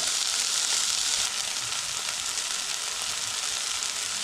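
Tomatoes softening in a hot pan for a spicy seafood and chorizo pasta, giving a steady, loud hiss of sizzling that barely changes across the moment.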